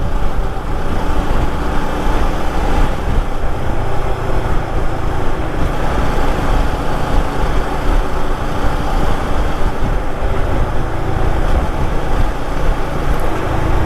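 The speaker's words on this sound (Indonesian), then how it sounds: "Gila, anginnya kencang sekali." Steady, loud roar of wind buffeting a rider on a Suzuki V-Strom 250 SX motorcycle at top speed on the road, a continuous broadband rush that runs unbroken throughout.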